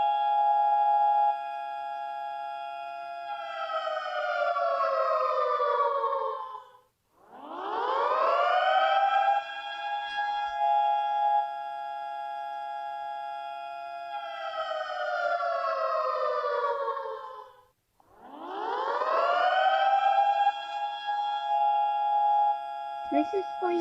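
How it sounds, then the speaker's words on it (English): A high-pitched tornado siren sound effect plays on repeat, each long wail rising sharply, holding a loud steady tone, then sliding down and dropping out before the next cycle begins. "I would rather do siren and alarm sound 6."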